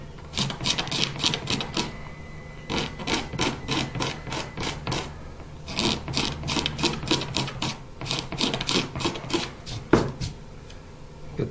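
A file rasping and scraping across a custom electric guitar body in quick rhythmic strokes, steady bursts of close, dry scraping that pause briefly between runs.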